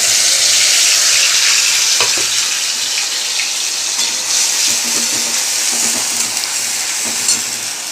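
Mustard paste with onion, tomato and green chilli frying loudly in a pan for a Bengali fish dish, a continuous close hiss and sizzle broken by the scrape and clatter of stirring.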